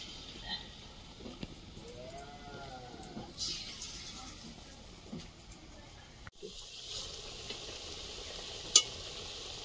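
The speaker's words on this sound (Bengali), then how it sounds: "এবার আলুর পকোড়া গুলো ভাজবো।" Potato pakoras deep frying in oil, a soft bubbling hiss with occasional stirring clinks and small bursts, fairly quiet and close.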